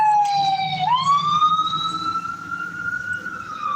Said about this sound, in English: All these sirens, bro.